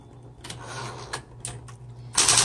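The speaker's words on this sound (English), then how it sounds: "this typewriter is very smooth" A 1960s Smith Corona Coronet Electric 12 electric typewriter, with a few separate sharp key strikes over a low steady motor hum, ending in a louder burst of clacking, close up.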